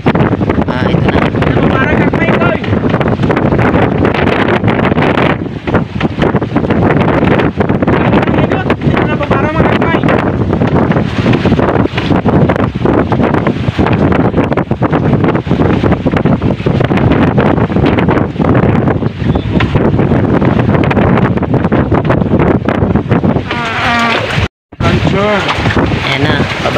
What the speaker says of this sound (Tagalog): hindi pa tumigil yung hangin